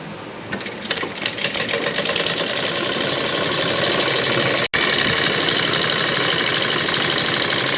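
Sewing machine stitching the belt (waistband) of a salwar, running in a steady rapid mechanical whir after a hesitant start, with one momentary stop midway before resuming at the same even pace.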